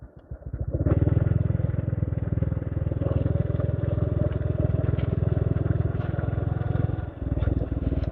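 A motorcycle engine runs steadily and loudly up close as it rides along a rural road toward a bridge near the Mae Phai marigold fields in Fang district, with a brief dip near the end.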